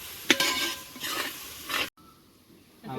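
Onions sizzling in oil in a pan for a Kerala-style chicken curry, with a utensil stirring and scraping in bursts against the pan, close up, then a sudden cut to a quieter, softer sizzle.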